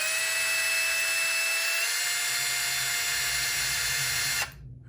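A power drill runs steadily through a clamp to open screw holes during an electronics build for a 7PXR, whining loud and continuous for over four seconds before cutting off abruptly near the end.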